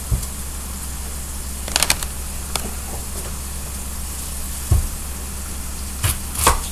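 A knife cutting a mushroom on a kitchen cutting board gives a few sparse, soft thuds against steady background hiss, each cut short and close.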